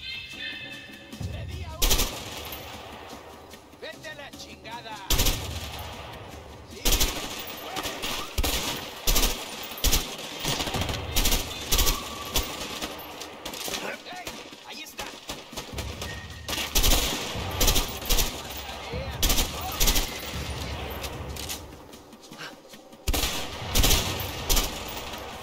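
Rapid automatic-weapon bursts and single gunshots from the video game A Way Out crackle loudly and almost nonstop, mixed with game effects and occasional voices talking.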